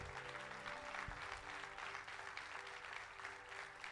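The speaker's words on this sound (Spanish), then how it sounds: "Denle un fuerte aplauso a Dios." Sustained applause from a church congregation, steady broadband clapping that continues evenly, heard at a low, distant level.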